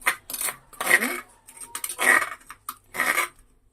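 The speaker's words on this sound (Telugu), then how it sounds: "బోన్లెస్ చికెన్ని చిన్న చిన్న ముక్కలుగా ఇట్లా కట్ చేసుకోవాలండి" Knife cutting boneless chicken into small pieces on a board, several distinct chopping knocks and scrapes in an irregular rhythm, close and clear, with faint background noise between strokes.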